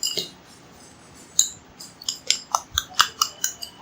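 A utensil rapidly beating eggs mixed with chopped onion in a bowl, a quick run of sharp, close clinks that grows into a steady whisking rhythm.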